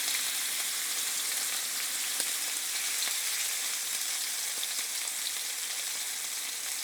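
A ribeye steak sears in a hot cast iron pan, giving a steady, loud, close sizzle and crackle with scattered pops throughout, no voices.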